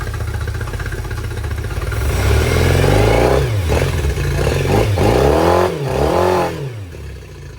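A Yamaha T50TLRD 50HP outboard motor with a repaired corroded water jacket runs loudly up close, swelling through several throttle rises and falls with a buzzing, clattering drone.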